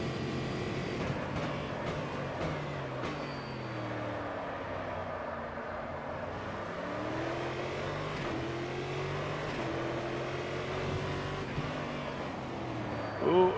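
A stock V8 race car engine at Adelaide in a racing video game revs and shifts steadily, its pitch sweeping up and down through the gears in a continuous loud drone with no talk over it.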